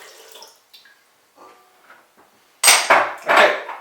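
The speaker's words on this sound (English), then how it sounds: "Now can you pour all the water in?" Warm water at about 110 degrees poured into a stand mixer bowl while making Portuguese buns: a loud, splashing pour of roughly a second, after a few faint bumps and clinks.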